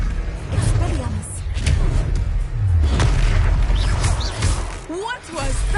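The Expelliarmus spell goes off in the video game Hogwarts Legacy, with loud booming impacts and whooshing bursts during a duel while voices shout over the effects.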